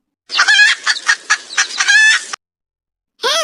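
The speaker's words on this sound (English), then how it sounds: "Rooster." A rooster crows loudly and close by in one long multi-part call, with the start of a second crow cutting in after a short silence.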